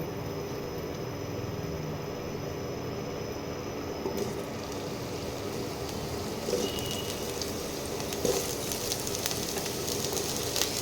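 Potatoes fry in hot oil for a vegetarian dish, giving a steady, dense sizzle and crackle close by, with a few louder pops toward the end.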